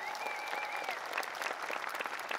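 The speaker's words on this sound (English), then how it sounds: "Let's have a round of applause for them as well." Crowd applause at a university undergraduate commencement, a dense, steady wash of clapping from a large audience, moderately distant, with faint voices and a brief whistle-like tone early on.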